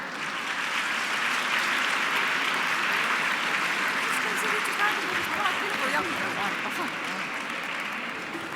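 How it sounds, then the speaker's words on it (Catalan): A hall audience at a Christmas event applauds the clinic choir, with a broad, even wash of clapping from many people held steadily for several seconds and a few voices mixed in underneath. "Un fort aplaudiment al cor clínic."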